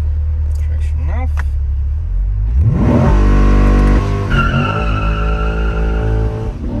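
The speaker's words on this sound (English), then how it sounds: "All we could pretty much do is a rolling burnout so far and do some more." A Corvette C8 on new Vossen wheels does a rolling burnout with traction control off, the engine revving hard and climbing loudly with tire squeal, close and dominant over brief background voices.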